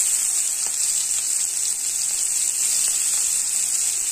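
Oil hisses in a kadai with a steady, bright frying sizzle as onions cook after mustard seeds and cumin have crackled, close and even throughout.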